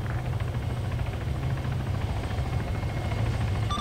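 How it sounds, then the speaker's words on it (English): Coast Guard helicopter in the A3PL game, its rotor giving a continuous loud low thumping drone with steady chop throughout, close and alone without talk. "The Coast Guard chopper is down."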